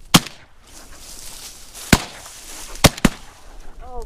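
Shotgun blasts fired at ducks during a public-land duck hunt, a single sharp close report followed by three more spaced shots, loud and abrupt over quiet open outdoor ambience.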